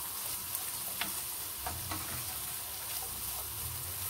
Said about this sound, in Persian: فلفلم اضافه می کنم، تفت کوچیک هم دارم